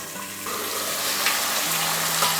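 Mixed vegetables for Bengali shukto fry in hot oil with a steady, loud sizzle, stirred now and then with soft scraping, close up and with no voices.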